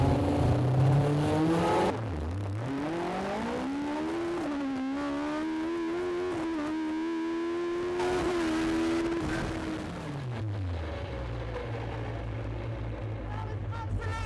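A Dax Rush sports car launches and accelerates hard at the Santa Pod drag strip, its engine climbing through a long rising howl, peaking, then dropping away to a lower drone, heard loud and close from inside.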